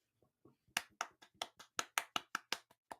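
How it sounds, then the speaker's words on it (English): A quick round of applause from a few hands: a short burst of about a dozen crisp, separate claps, close and fairly quiet, starting sparse and picking up. "I just say like a quick round of applause right there, huh?"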